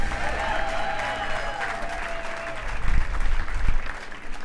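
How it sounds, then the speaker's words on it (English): Audience at Guy Fieri's Hollywood Walk of Fame ceremony breaks into applause, a broad outdoor crowd clapping that swells and grows louder toward the end, with a voice heard over it at first. "That's where you clap for them."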